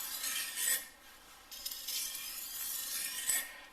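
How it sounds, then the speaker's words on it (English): A steel knife drawn across a whetstone in long, gritty rasping strokes, a couple of separate passes with short pauses between them, close and clear with no voices. "moving your knife across the stone"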